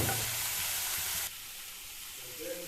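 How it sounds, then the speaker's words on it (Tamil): Vallarai keerai with salt sautés in a pan, a loud, dense sizzle that abruptly drops to a quieter steady frying hiss partway through, close by with no voices. "இது வதங்கிட்டு இருக்கு ஒரு பக்கம்"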